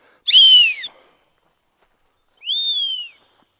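Two shrill blasts from a small square tag whistle with a bright, slightly bending pitch, the first short and harmonic-rich, the second after a pause, close and loud.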